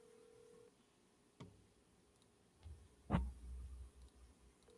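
A phone call being dialed to a seller for nationwide real estate wholesaling: a brief steady tone, a sharp click, then a louder clunk and low rumble as the line connects, all quiet and without talk.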